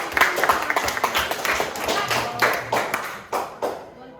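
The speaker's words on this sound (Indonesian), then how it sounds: "tepuk tangan untuk kelompok" A classroom group gets a short round of clapping, with irregular sharp claps from a handful of people that thin out toward the end while voices talk at the same time.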